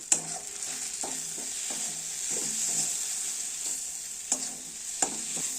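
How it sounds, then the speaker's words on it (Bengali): Turmeric, chili and cumin powders sauté in hot oil for a tadka: a thin, steady sizzle broken by several distinct scraping strokes of a spoon against the pan and a few sharp clinks. "এরপর এগুলোকে ভালো করে কষিয়ে নেব"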